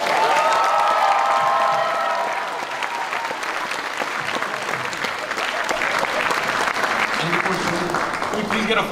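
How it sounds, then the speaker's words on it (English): Loud, dense applause from a graduation commencement audience fills the hall, steady throughout with some cheering mixed in, and a voice speaks briefly near the start. "Can we give another big round of applause for Ilona?"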